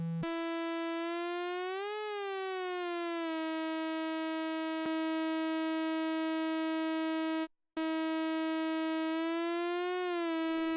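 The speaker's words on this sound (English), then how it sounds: "this is a sine wave, but it's being synced by the other oscillator, so it's chopped up there" A bright, buzzy synthesizer sine wave hard-synced by another oscillator holds steady, swelling in pitch twice with a glassy sweep, and cuts out briefly near the end.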